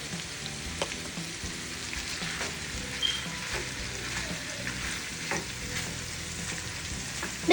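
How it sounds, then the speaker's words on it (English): Sausage sizzles and fries steadily in a very hot pot for gumbo, a dense crackling hiss broken by a few soft clinks and stirring knocks, with no one speaking. "so that is a lot of good sausage. I'm gonna fry it."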